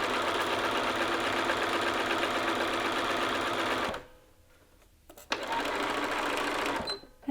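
A sewing machine runs steadily and loudly while sewing a jacket lapel seam down to the lower edge. It pauses briefly for about a second, then resumes a continuous stitching run.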